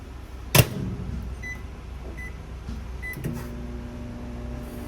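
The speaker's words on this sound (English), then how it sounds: "Standard like a microwave at your house." A door clunks shut, then a few short beeps sound before a microwave oven in a 2022 Bullet Ultra Lite 312BHS travel trailer starts up with a steady low electrical hum, nearby and moderately quiet.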